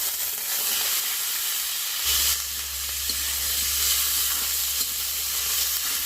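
Frog meat and onions fry in a pan with a steady, loud sizzle and hiss, a low hum joining partway through, no talking.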